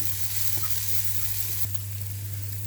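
Onion, green chili and curry leaves sautéing in a pan, a steady close sizzle with a low hum beneath and a few faint stirring clicks.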